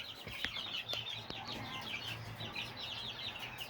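Chickens in a pen set aside for outcast or crippled birds, with soft scattered clucks and chirps under a steady background hiss, close by and with no talking.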